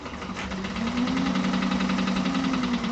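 Sewing machine stitching a quarter-inch seam, running at a steady speed with a constant mechanical whirr and fast rhythmic needle ticks, close and even throughout with no talk.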